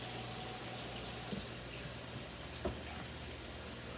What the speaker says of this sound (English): I'm scrubbing my hands